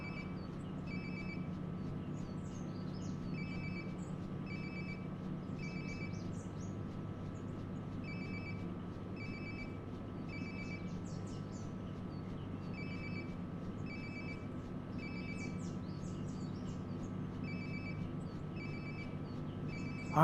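A phone rings nearby in the video game Life Is Strange: Before the Storm, a repeating electronic ringtone in evenly spaced bursts over a quiet low hum, continuing for about twenty seconds with no talk.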